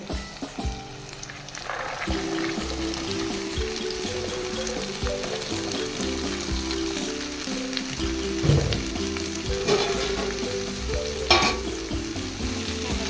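Cluster beans and french beans bhaji frying in a pan, a strong continuous sizzle with stirring scrapes and a few brief louder crackles, close up and without talk.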